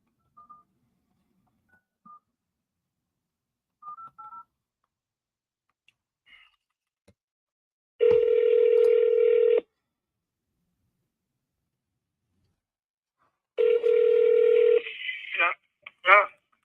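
Push-button telephone dialing with DTMF keypad tones: a few short scattered beeps early on, then two sustained tone bursts of about a second and a half each, with a brief voice fragment near the end.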